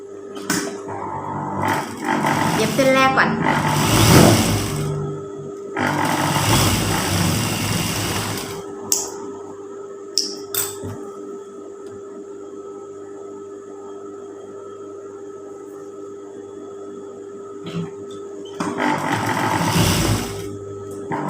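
A sewing machine stitches a trouser pocket seam in a few short, fairly loud runs of rapid motor whirr, separated by quiet pauses.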